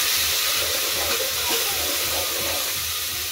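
Cumin seeds sizzle in hot oil for a tadka, giving a steady, close hiss and crackle that runs evenly throughout with no voices.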